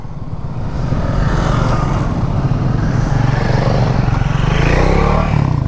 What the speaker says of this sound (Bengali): একটা সুন্দর বাইকের লাইন আপ নিয়ে আমরা এগিয়ে চলেছি।